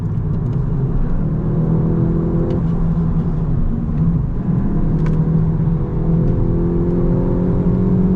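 A 300 HP VW GTI rounds a corner, heard from inside the cabin. The engine drones loudly and continuously, with its pitch dropping and climbing as the car eases off and pulls through the turn. Light ticks sit over the engine.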